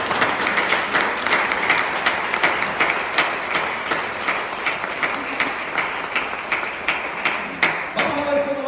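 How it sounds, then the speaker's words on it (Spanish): A church congregation applauding, steady, fairly loud clapping from many people that continues throughout, with a voice briefly heard near the end. "Aplauda a Dios entonces."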